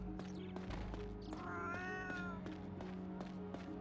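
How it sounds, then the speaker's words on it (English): Cats meow in the video game The Last Story, a few soft mewing calls with drawn-out tonal cries rising over a steady ambient hum and faint clicking footsteps. "No dogs, just cats."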